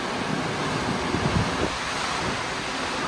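Steady rushing water and wind noise roar continuously, a broad churning wash of sea moving fast along the side of a cruise ship at sea, past the microphone.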